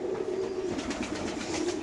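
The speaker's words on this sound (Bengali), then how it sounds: "এগুলো রেসার কবুতর হলো সবচেয়ে খাতারনাক কবুতর ভাই" Racing pigeons in a loft give a soft, continuous cooing murmur, low and close, with several birds overlapping and no talking.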